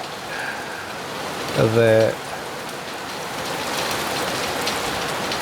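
A rainstorm gives a steady wash of falling rain on surfaces, with someone speaking briefly near the start over the downpour.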